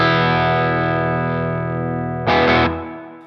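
An electric guitar played clean with its effect pedals switched off rings out as a sustained chord, then a brief brighter strummed burst near the end before fading, loud and alone.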